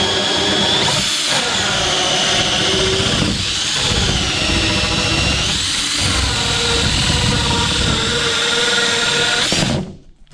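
Power drill driving a hole saw through a wall panel, a loud, steady, close whine with slight dips in pitch as the cutter bites, then winding down abruptly at the end; no voices.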